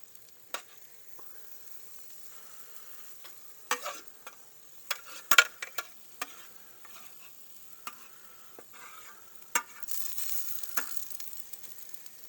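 Chunks of deer neck meat sizzle in a hot pan for birria tacos: sparse crackles and pops that build into a steady, louder hiss of frying toward the end, close and with no talk.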